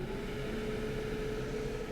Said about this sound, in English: I need some ventilation going on in here.